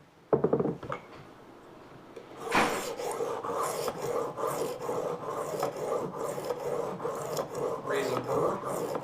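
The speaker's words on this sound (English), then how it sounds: "So now we're going to switch to the fine stone. We're going to do the exact same thing again." A kitchen knife scraped repeatedly across a fine sharpening stone, a close, steady rasping stroke after a few sharp knocks at the start, the grinding rhythm continuing to the end.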